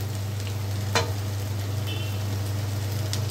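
Spiced meat sautéing in a pan with ginger, garlic and onion after turmeric powder goes in, a steady close sizzle of frying with a brief stirring scrape near the middle.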